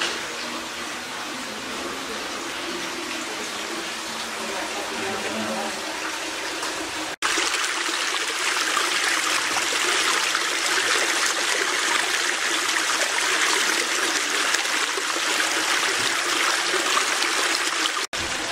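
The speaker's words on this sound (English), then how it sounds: "That's where the spring comes out, I guess." Spring water gushes steadily from an outlet at the ruins of an old bottling plant near Valley Forge, a close, constant rushing flow that briefly cuts out and then resumes louder, with no voices over it.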